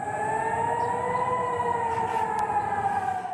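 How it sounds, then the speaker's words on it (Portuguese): Air raid sirens wail steadily in Tel Aviv during Iranian missile attacks, a loud sustained rising and falling tone that fills the whole stretch without pause. "Os ataques iranianos fizeram soar as sirenes em Tel Aviv e Jerusalém."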